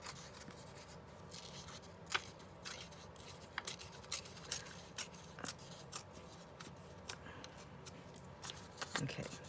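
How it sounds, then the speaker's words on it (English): Paper polka dot pieces are torn out by hand during a crafting session, giving close, faint rips and rustles in irregular bursts over quiet background noise. "if I'm gonna use these polka dots, I'm gonna tear them out now"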